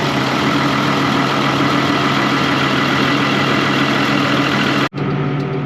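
A 10,800 engine idles steadily at minus two degrees just after a cold start, a loud, constant low rumble that runs on evenly before briefly cutting out near the end and resuming.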